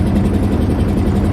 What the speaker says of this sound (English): It's got the noise of the boat, so it isn't really,